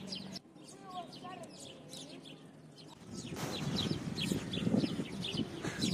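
Sparrows chirp in quick, repeated bursts beside a thawing lake in Yakutsk in spring. Other birds are scattered around, and a soft crowd-like murmur rises in the background.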